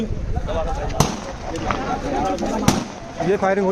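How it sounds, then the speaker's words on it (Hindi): Gunshots ring out in hilly terrain during a riot in Nuh, with two sharp reports standing out over a noisy crowd and continuous talking. "ये देखो भाई ये पहाड़ है पहाड़ों से घेरते हुए ये गोली फायरिंग होती हुई"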